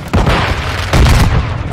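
Gunfire in the multiplayer shooter Modern Warfare 2, loud booming shots in two dense bursts with a brief lull between them.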